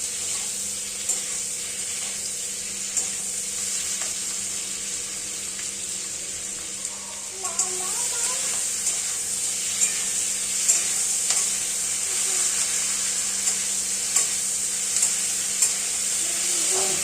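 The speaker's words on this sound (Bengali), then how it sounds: "এবার তেলের ভেতরে ক্যাপসিকাম ও বড় করে কেটে রাখা পেঁয়াজগুলো দিয়ে দেব, তার সাথে দেব টমেটো। খুব ভালোভাবে সেগুলো নাড়াচাড়া করব।" Capsicum, onion and tomato stir-fried in hot oil, giving a steady close sizzle with scattered scraping stir strokes throughout, no talking.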